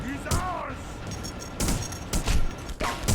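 Bursts of gunfire with a whining bullet ricochet crack out in a Punisher shooter game, several sharp shots spaced over a few seconds, loud and close amid game noise.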